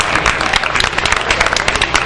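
Dense, loud applause bursts from the audience at the Sampla kavi sammelan, a Hindi poetry gathering, honoring a principal's wife seated below the stage. Continuous close clapping fills the whole stretch.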